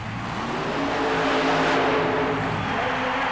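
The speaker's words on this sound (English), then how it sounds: "it's Jeff Acker's incredible Insanity supercharged Ford T Roadster making its attempt" A supercharged Ford T Roadster mud racing car at an indoor arena event, its engine roaring loud and close in a sustained, steady rev that rises slightly in the middle, with the arena's broad noise around it.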